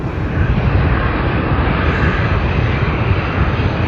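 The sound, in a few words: Qantas flight QF 401 airliner departing Sydney Airport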